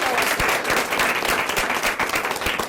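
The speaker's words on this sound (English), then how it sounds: "give a big round of applause" Loud, close applause from a class audience for a guest speaker after a public relations lecture, dense clapping filling the whole short stretch without a break.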